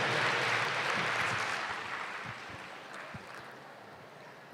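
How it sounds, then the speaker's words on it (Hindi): An audience at a stage gathering breaks into loud applause that starts at full strength and slowly thins out over a few seconds, with no voices on top. "अपने लिए ताली बजाओ जोर से"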